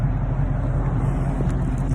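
A pickup truck engine rumbles low and steady up close as the truck is pulled forward, a continuous heavy drone with no talk over it.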